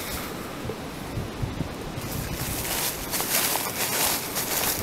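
Strong wind gusting outdoors at an abandoned coal-mining ghost town in Appalachia, a loud continuous broadband rush that swells and buffets the microphone, with no talking.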